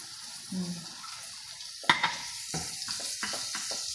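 Argentina corned beef frying in a small pan: a soft, continuous sizzle with intermittent scraping and a sharp clatter of the utensil, close by, with a faint voice briefly in the background.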